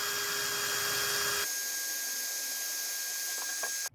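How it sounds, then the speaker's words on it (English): A power drill boring a hole for a Rover 45 outer door handle, a steady high whine that drops in pitch partway through as the bit cuts, then stops abruptly at the end. "we're now drilling with the size of hole hopefully we need"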